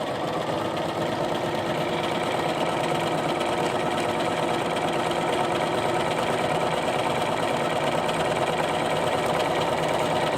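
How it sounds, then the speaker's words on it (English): A Bernina Aurora 430 sewing machine running continuously as it stitches a rope stitch, a steady close mechanical whirring and rapid needle chatter at an even pace with no pauses or talking. "Now it is going forward, sideways, back, forward, sideways, back."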